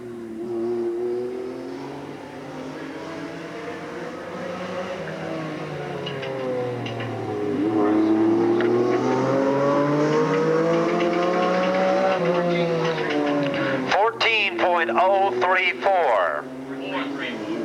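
A Pontiac stock car in NASCAR Busch North Series qualifying at Riverside Park Speedway revs hard and steadily, its engine note rising and falling as it circles the oval, growing louder near the end, with a commentator talking over it.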